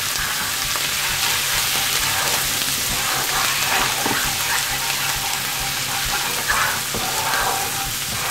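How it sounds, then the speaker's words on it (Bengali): Ginger and garlic frying in a pan for butter chicken, giving a loud, dense, continuous sizzle with occasional stirring scrapes and no speech. "এই আদা রসুনটা একটু ভেজে নিতে হবে।"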